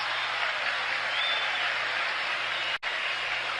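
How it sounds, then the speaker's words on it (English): Baseball stadium crowd applauding pitcher Bob Gibson after an out during a 1971 game against the Pittsburgh Pirates, a steady broad wash of distant clapping and crowd noise with a brief dropout near the end. "And they're applauding Gibson on every out now."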